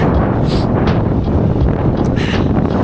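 Strong wind buffeting a microphone on a cycling ride near an airfield, a loud constant low rumble with gusting flutter throughout the short stretch, no speech.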